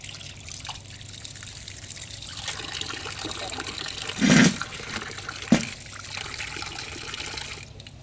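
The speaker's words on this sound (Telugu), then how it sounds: "వాటర్తో అయితే ఇలా క్లీన్ చేసేసుకోవాలి శుభ్రంగా లోపల పొట్టంతా క్లీన్ చేసుకొని" Water trickles and splashes while crabs are being washed clean by hand outdoors, a soft steady dribble with a couple of brief louder splashes, close by and fairly quiet.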